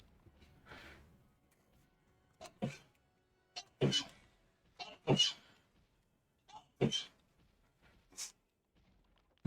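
A single sneeze among a few short, scattered bursts of throat and breath sounds, close and fairly quiet, with no talk around it.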